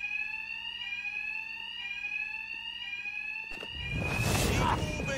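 An alarm rings steadily in the Batman: Arkham Knight video game, a continuous repeating electronic tone, followed by a loud burst of noise near the end.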